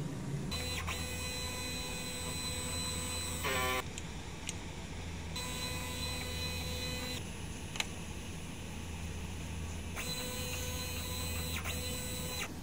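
A DTF printer runs a print head cleaning cycle, with a steady mechanical hum, periodic whirring motor passes and a few short clicks, close and fairly even in level.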